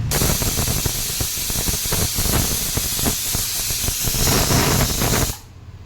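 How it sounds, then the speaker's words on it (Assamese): Steam hisses loudly and steadily from a pot of chicken boiling for chow mein, a dense continuous spray with faint rapid rattling that cuts off abruptly near the end. "আৰু এইফালে চিকেনটোও বইল হ'ব দিছোঁ"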